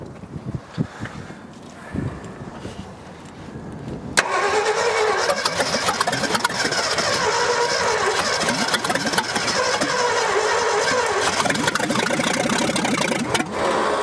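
A 1965 Ford F100 pulled from burial and rebuilt cranks with scattered clicks and turns, then catches and runs at a steady, loud idle for about ten seconds, close up with no talking.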